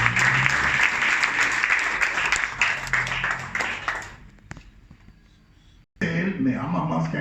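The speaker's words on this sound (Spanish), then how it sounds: "aplaudan al Señor Jesús." A church congregation claps and applauds together, loud and sustained for several seconds, then fades to near silence before a brief burst of sound returns.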